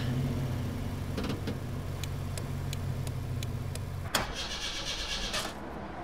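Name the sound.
car engine starting in video game Persona 5 Royal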